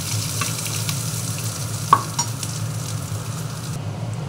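Garlic paste sizzles steadily in a hot pan of oil while being stirred, with a few sharper spatula clinks; made for a Bengali potato and long bean mash. No one speaks.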